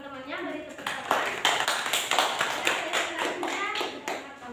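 Classmates in a classroom clapping after a group presentation, a brief burst of sharp, uneven hand claps from a small group, close and distinct, following a moment of someone speaking.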